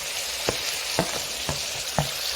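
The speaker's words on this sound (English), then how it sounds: "I'm just going to add the garlic powder, the garlic chopped up and the onions" Garlic powder, chopped garlic and onions frying in a beef stew pot, a steady broadband sizzle broken by a handful of sharp clacks at regular intervals, likely a spoon knocking the pot, with no voices.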